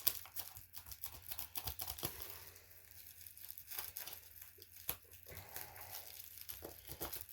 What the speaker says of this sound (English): Let's get the scissors out and cut into this thing.